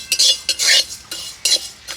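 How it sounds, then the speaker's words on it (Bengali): A spatula scrapes and clinks against a dry wok while cumin seeds roast, making several sharp, close metallic strokes in quick bursts with short pauses between. "শুকনো কড়াই ভেজে গরম করে নেব।"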